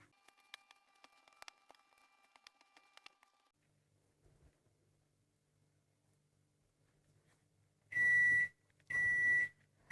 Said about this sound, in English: Oops, there goes the timer.